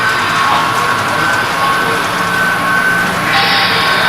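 Lionel model trains run steadily across a holiday display layout in Long Island, giving a continuous close rumble and rattle of small wheels on track for the whole stretch.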